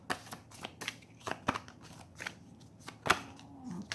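Tarot cards are shuffled in several quick riffling bursts with soft papery flutters between them, close and fairly quiet, no voices.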